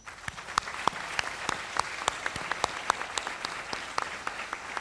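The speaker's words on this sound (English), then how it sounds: "they deserve a big round of applause" Clapping from a modest audience at a research seminar, a steady patter of hands with a few sharper individual claps standing out, fairly close.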